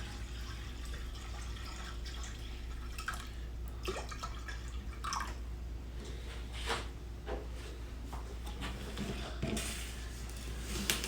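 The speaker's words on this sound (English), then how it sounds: "So let's just add a little bit of water." Water trickles and drips steadily into a vase over a low constant hum, with small splashes and no talking.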